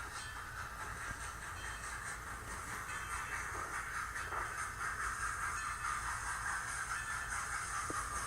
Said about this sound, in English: That little 280 is pulling a 17-car passenger train.